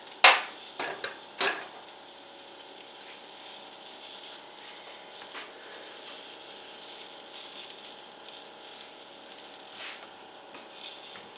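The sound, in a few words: breakfast frying in a pan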